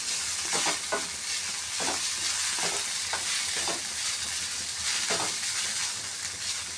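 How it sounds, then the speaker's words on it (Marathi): Poha with vatana and masala is stirred in a hot pan, a steady frying hiss carrying several distinct scraping strokes of the spoon at an irregular pace, close and fairly loud with no talking. "मी परत मिक्स करून घेणार आहे"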